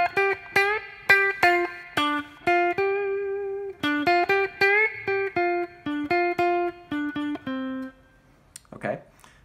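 A guitar riff played with effects on an electric guitar: a run of clean, sustained plucked notes in a steady rhythm, mostly single and some repeated, ringing close and alone before stopping with a brief scrape.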